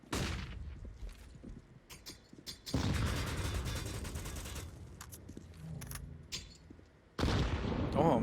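Counter-Strike match gameplay with a grenade blast and gunfire, bursts of rapid shots and a loud boom standing out over a low, busy game background.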